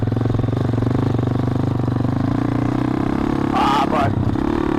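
A 2013 custom SSR 110cc manual pit bike with an FMF pipe runs close by with a steady, rapid buzzing idle, and a brief higher burst near the end.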